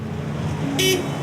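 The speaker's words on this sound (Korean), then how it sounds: "뒤에서 아무리 경적을 울려도 안 들려요?" A car horn sounds from behind in street traffic, with short bright honks over road noise and someone speaking nearby.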